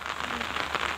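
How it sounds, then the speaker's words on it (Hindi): Steady rain pattering on a surface during flooding in Tripura, India, a dense even hiss with no voices, continuous throughout. "बहुत सारे बारिश अभी भी हो रहा है"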